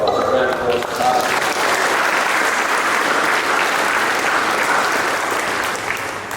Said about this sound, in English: So round of applause for Taj